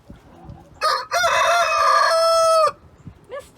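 A backyard rooster crows loudly and close by in one long, strained call, preceded by a short squawk and followed by a brief cluck from the coop.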